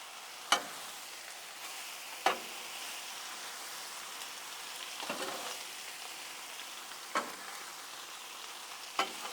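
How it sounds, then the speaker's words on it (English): Spinach and tomatoes wilt and blister in a pan for garlic butter tortellini with sausage, with a constant crackling sizzle punctuated by a few sharp, spaced utensil knocks, near and with no speech. "Get this mixed in, let it cook down, let it blister up some of the tomatoes"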